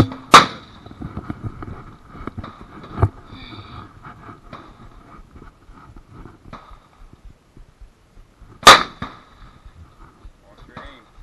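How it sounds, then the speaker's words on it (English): Two sharp, loud SKS rifle shots ring out, one near the start and another about eight seconds later, with faint voices and outdoor range noise between them. "SKS can be a really fun gun to shoot."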